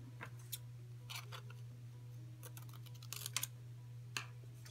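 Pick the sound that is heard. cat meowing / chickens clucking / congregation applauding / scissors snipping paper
scissors snipping paper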